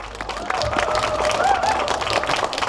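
Audience at a county proclamation ceremony for Juwangsan-myeon in Cheongsong applauds in a dense, sustained burst of clapping that holds at an even, fairly loud level throughout.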